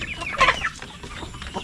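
Native chickens crossed with Rhode Island Red cluck nearby in a farmyard, a few short soft clucks and a brief louder squawk, with low background noise and no talk.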